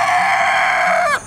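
Laying hens clucking and crooning close by in a steady chorus of overlapping calls on a homestead, with no talking.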